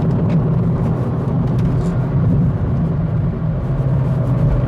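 A 2019 Hyundai Elantra GT (i30 N Line) engine pulls hard under acceleration while overtaking a slower Lexus, with a steady, loud drone and road noise heard from inside the cabin throughout.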